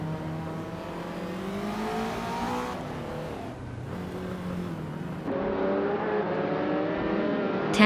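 A 1987 Porsche 959 race car in a racing video game accelerates hard, its engine climbing through repeated rising revs with gear shifts in between, loud and close throughout.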